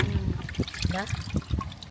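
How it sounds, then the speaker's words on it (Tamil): Water poured and trickling while aloe vera pulp is rinsed a second time in a kitchen, heard as a close, continuous splashing dribble under a person talking. "ஒரு தடவை கழுவி ஊற்றிட்டேங்க எனக்கு, 2வது தடவை கழுவுறேன்"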